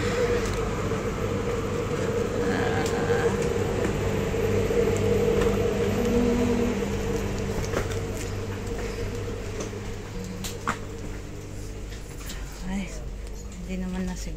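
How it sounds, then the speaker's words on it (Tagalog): A train rumbles along the Malmö to Copenhagen line with a steady low drone that slowly eases off. Scattered clicks and knocks sound through it, and people talk now and then over the noise. "Yan yung train."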